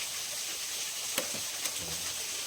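A steady hissing, bubbling sizzle of water boiling in a pot at a cave campsite deep in a forest, constant and fairly quiet, with a couple of small clinks.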